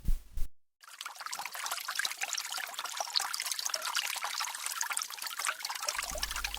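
A fountain runs with a continuous bright trickle of water, steady and close, after a brief low thump at the start.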